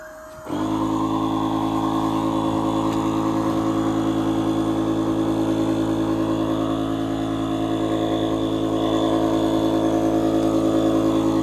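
An electric air pump inflates a waterproof inflatable tent through a hose, starting abruptly and then droning steadily and loudly throughout.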